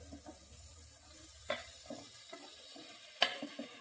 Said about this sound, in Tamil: சொரக்காவை சேர்த்துட்டு திரும்பியே கொஞ்சம் கிளறிடுவேன்.